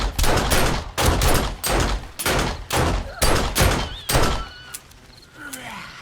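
Rapid bursts of gunfire in a zombies video game, about a dozen loud, punchy shots in a steady rhythm before tapering off into quieter game sounds and faint tonal effects at the end.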